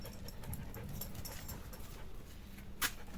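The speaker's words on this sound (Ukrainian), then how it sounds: "Він починає гавкати на колеса, зубами колеса хватає." Dog panting steadily at close range, quick rhythmic breaths throughout, with one short sharp yelp near the end; the dog barks at and bites the wheels of a bicycle being walked.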